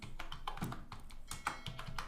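Fast typing on a computer keyboard, a steady run of close, crisp key taps with a few heavier strokes mixed in, and no voices.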